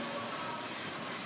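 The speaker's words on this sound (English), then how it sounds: "it's raining right now." Rain falls outdoors during a thunderstorm as a steady, moderately loud wash of patter, continuous and without talk.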